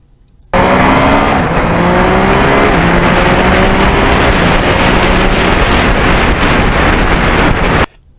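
Steady, loud rush of wind buffeting a Kawasaki MT-09 motorcycle at highway speed, with engine drone underneath, starting abruptly and holding constant for about seven seconds before cutting off; no talking.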